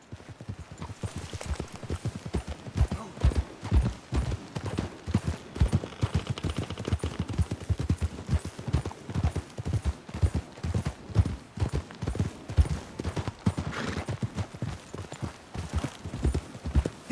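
Horse hooves clip-clopping at a steady trot in the video game Red Dead Redemption 2, a continuous rhythmic patter of hoofbeats on ground, fairly close, with faint background game ambience and no speech.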